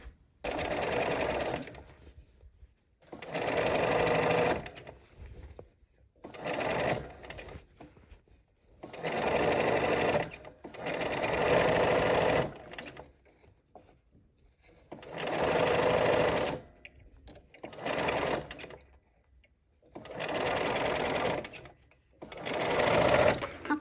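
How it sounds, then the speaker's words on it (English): A sewing machine stitches fabric in repeated loud bursts of rapid whirring, each a few seconds long, separated by short pauses. "Okay, let's go sew."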